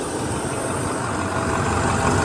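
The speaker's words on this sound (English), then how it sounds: "Max force diesel motor." An International IC CE school bus with a MaxxForce diesel engine and automatic transmission, idling at an auction lot: a loud, steady, close diesel rumble and clatter that runs unbroken, with no speech.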